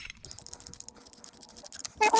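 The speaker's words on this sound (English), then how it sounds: "you can see if I unscrew this" Metallic ratcheting and clicking from a wrench unscrewing a bolt on a car's front suspension, a quick run of close, uneven ticks ending in a louder, brighter burst.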